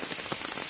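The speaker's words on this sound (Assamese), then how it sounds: "বৰষুণ দি আছে।" Rain falling steadily on surfaces around an umbrella, a dense even patter with soft drops tapping throughout, close and fairly loud.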